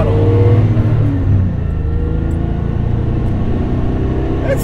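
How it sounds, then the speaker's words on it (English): A 2001 Chevrolet S10 single-cab manual pickup truck accelerates at full throttle, its engine giving a loud, close rumbling drone that rises in pitch during the first second and a half, then settles into a steady roar. "All right, we're going to go full throttle."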